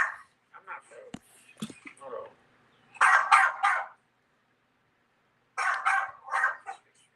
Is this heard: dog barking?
yes